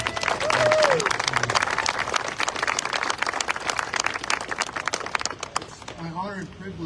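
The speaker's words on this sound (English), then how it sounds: "Another round of applause for the young Texans here." Crowd applause for young Texans at a commemoration ceremony for the Immortal 32, sustained dense clapping from a large outdoor gathering that fades toward the end as a voice speaks over it.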